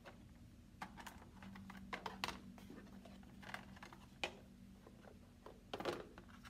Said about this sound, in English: we are going to cut our animal out